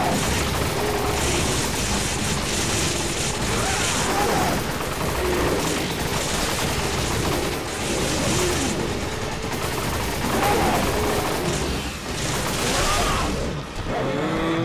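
Rapid gunfire in the video game Resident Evil 5, as players shoot at a rock, comes as dense, loud bursts of shots layered over continuous game noise and rumble across the whole stretch.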